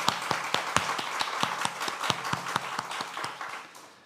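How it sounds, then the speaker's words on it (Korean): A church congregation claps together in lively applause, a dense burst of many hands with sharp rhythmic accents, holding steady for several seconds before thinning out at the end. "하나님께 감사와 영광의 박수를 올려드리도록 하겠습니다"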